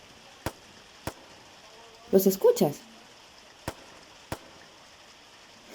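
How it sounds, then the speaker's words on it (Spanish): Distant fireworks pop as sharp isolated cracks spaced a second or two apart on a quiet street, with a brief spoken question in Spanish over a short burst of clustered bangs. "y son fuegos artificiales."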